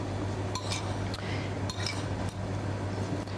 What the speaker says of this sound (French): mes champignons, mes tomates, mes crevettes, ma mayonnaise, et donc je vais mélanger tout ça